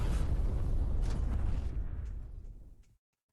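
A self-destruct super move from the fighting game Granblue erupts as one loud, roaring explosion that holds its force briefly, then fades over about three seconds before cutting to silence.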